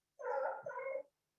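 A dog gives one drawn-out whining yelp lasting about a second, fairly close and with no talk over it.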